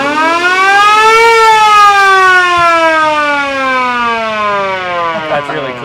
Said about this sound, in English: Fire engine siren.